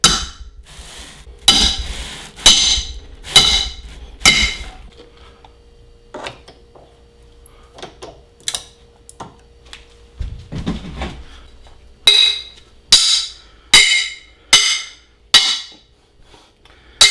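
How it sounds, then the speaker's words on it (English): A hammer gently taps a metal scraper wedged under a 3D print on a glass printer bed, giving sharp clinking knocks in two quick clusters with quieter scraping and handling noises in between. "We're just gonna slide it gently under a corner of the model, real gentle, and then just gently tap it."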